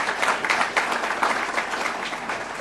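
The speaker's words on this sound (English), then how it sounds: "Give yourselves a great round of applause." A convention audience in Cleveland breaks into a dense, steady round of applause, many hands clapping together at moderate distance with no speech over it.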